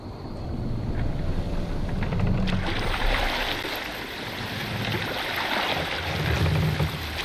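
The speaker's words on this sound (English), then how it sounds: "Need to row our way out." A longship is rowed out to sea in the video game Assassin's Creed Valhalla, with continuous water splashing and rushing wind, swelling and fading in slow waves across the scene.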